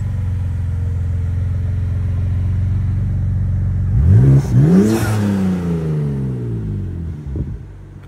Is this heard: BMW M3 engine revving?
yes